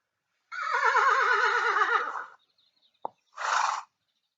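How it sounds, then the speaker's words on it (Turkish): A horse neighs loudly with a long, wavering whinny, then a brief click and a short snort-like burst follow after a pause. "İnci at gördü."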